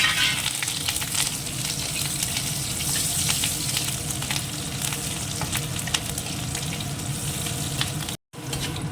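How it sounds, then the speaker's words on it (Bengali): Whole spices, dried and green chillies and chopped garlic frying in hot oil make a continuous close sizzle with scraping stirs and small crackles, with one very short dropout near the end and no talk. "দিয়ে দেবো একটুখানি রাঁধুনি ফোড়নে আর দিয়ে দেবো শুকনো লঙ্কা কাঁচা লঙ্কা আর রসুন"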